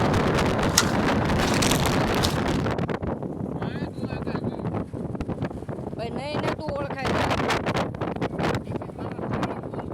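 Strong wind rushes past while riding on top of a moving vehicle on the road to Dwarka, buffeting the microphone in a continuous roar, with faint voices underneath.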